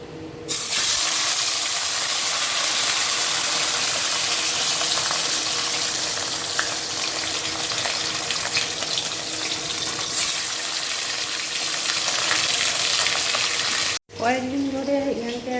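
A fish is dropped into hot oil and fries with a loud, continuous, rushing hiss that holds steady. It stops abruptly near the end, and a voice follows.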